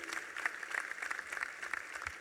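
An audience in the Ramdhari Singh Dinkar auditorium at the World Hindi Conference gives performers a welcoming round of applause, heard as a brisk, even spatter of many hands clapping at moderate volume.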